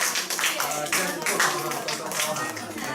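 An audience applauding at a traditional aristocratic culture event in Shenshan tribal village, with a crowd of hands clapping steadily and fairly loudly while a voice talks over it.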